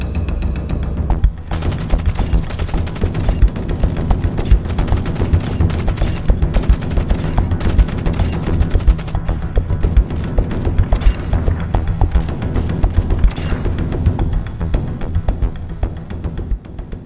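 Kastov 545 rifle fire in Call of Duty MWII on Shoot House in a 10v10 match, with loud, near, continuous rapid bursts and heavy booms almost nonstop throughout, and no talk over them.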